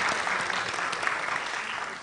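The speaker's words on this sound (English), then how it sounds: "A round of applause for him." Brief audience applause at a morning mentorship session, a dense even patter of clapping from a seated crowd, steady and moderately loud throughout.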